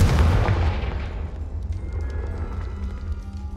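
A Confringo fire spell in Hogwarts Legacy goes off as one loud, booming blast at the start, then its rumble decays over a few seconds.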